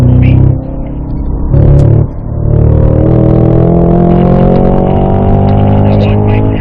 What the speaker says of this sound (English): Now as we upline, we can start to use the accelerator here.